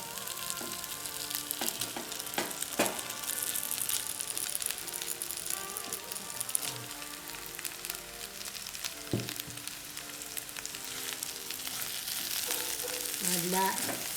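Sliced onions and potatoes sizzle steadily in a pan over low heat for a Jaffna-style egg curry, a continuous close frying hiss broken by occasional stirring clinks, with faint music in the background and no talk.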